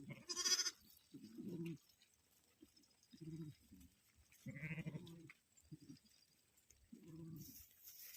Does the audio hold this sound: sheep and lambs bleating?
yes